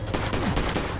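A quick rattle of rapid video game gunfire, several loud, close shots packed into about a second.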